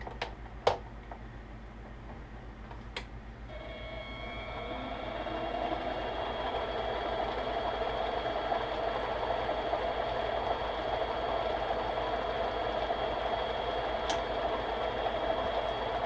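A cutting tool machining Delrin plastic on a lathe in high gear gives a steady, sustained whir with a faint tonal whine that starts a few seconds in after a couple of sharp clicks, running continuously to the end without talk.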